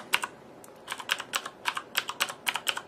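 Keys on a Corsair Vengeance K70 RGB LED mechanical gaming keyboard are pressed one after another in a steady run of about a dozen sharp, close clicks with no talk.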